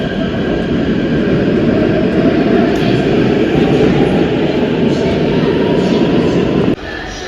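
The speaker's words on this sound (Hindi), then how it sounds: "क्या है यार यहाँ, प्राइवेट मेट्रो।" Steady loud rumble of a private metro train running in Tokyo, a continuous rolling roar that drops abruptly near the end, with no clear speech.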